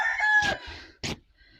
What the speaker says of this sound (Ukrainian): півники перегукуються один звідти, другий звідти